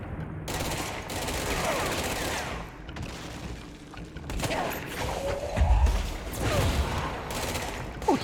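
Automatic weapon fire in the video game Control, with rapid bursts of gunfire and low thuds rolling through a busy, continuous combat mix at moderate loudness.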